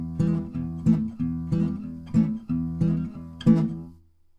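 Blues guitar rhythm with only the fretting hand muting the strings, giving short choppy chord stabs with brief gaps between them, played alone up close before fading out.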